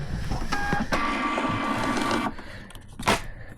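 A label printer runs off a next-day shipping label, a close whirring mechanical feed lasting about two seconds, followed by a couple of softer clicks and a brief tear-like burst.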